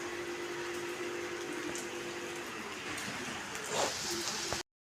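Steady rain falls throughout, a dense even hiss with scattered drips and splashes, with faint voices and household sounds underneath before the sound cuts off abruptly.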